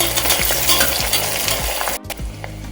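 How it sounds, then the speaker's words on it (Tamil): Sliced onions sautéing in a pan for mint rice, a loud close sizzle with repeated stirring scrapes, a brief gap, then the frying carries on. "வெங்காயம் போட்டு நல்லா வதக்கிக்கலாம்."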